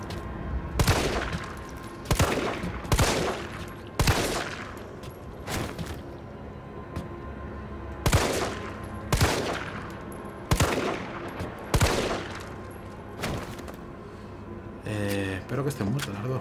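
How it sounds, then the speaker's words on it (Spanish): Sharp pistol gunshots fire in irregular bursts, single and double cracks, loud and close, with background noise from Resident Evil 3 between volleys. "Voy a tirar con la pistola un momentito."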